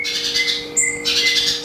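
Orange-headed thrush chirping over a steady background hum, with fairly loud bright repeated calls, a brief higher whistled note in the middle, then more chattering song, and no voices.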